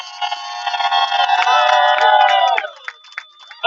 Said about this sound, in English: Let's give the guys a big applause.